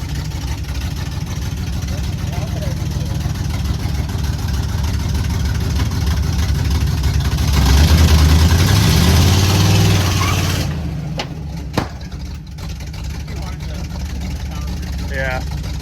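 An old 1955 Chevy truck engine that sat for 23 years runs at idle with a steady mid-pitched rumble, swelling briefly louder partway through and then settling back, while people talk nearby.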